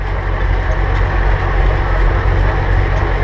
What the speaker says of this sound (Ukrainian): трактор йде практично на холостих